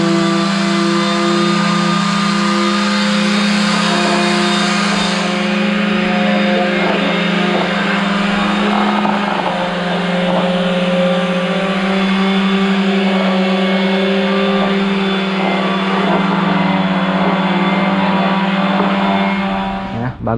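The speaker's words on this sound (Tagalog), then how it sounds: "motor ni Kuya John yan, Junjun." A motorcycle engine runs continuously outdoors with a steady, loud idling drone and slight shifts in pitch, sustained for the whole stretch without clear speech.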